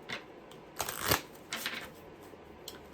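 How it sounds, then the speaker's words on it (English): A deck of cards being shuffled during a reading, several short riffling bursts, the loudest near the middle, close and fairly quiet with no talk. "this one's always hard to shuffle"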